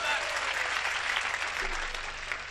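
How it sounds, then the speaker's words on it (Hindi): Audience applause at a Hindi comedy poetry (hasya kavi) recital, a steady, dense wash of many hands clapping at an even level throughout, with no gaps. "एक बार तालियां बजा दे दोस्तों"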